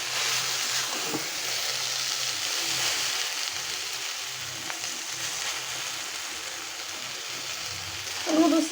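Steady loud sizzling as noodles are added to a hot frying pan seasoned with spice packets, with faint stirring and scraping and a brief louder clatter at the end, no voices.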